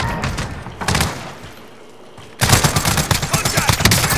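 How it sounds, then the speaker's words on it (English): Rapid gunfire from Call of Duty Warzone, loud and near, with bursts of automatic fire and a brief lull before a dense, sustained barrage erupts again. "There's guys shooting from top."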